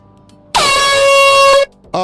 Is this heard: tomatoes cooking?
no